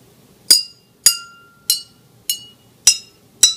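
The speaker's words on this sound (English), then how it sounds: "So we have six glasses filled with water at different levels, and he will play each glass for us" Six water-filled glasses at different levels struck one at a time as a glass organ, each giving a bright ringing clink that fades, evenly spaced and close.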